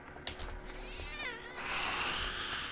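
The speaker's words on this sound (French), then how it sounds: "Qu'est-ce que c'est ça? C'est encore un chat?" In the horror game Viy, a cat gives a few plaintive, wavering meows, then a longer whining yowl, all close and clear over a soft game ambience.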